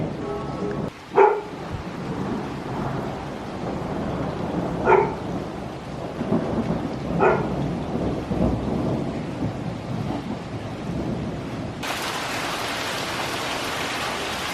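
Thunder rolls through a storm in long low rumbles under steady rain, with a dog's sharp barks cutting in a few times and heavier rain hiss toward the end.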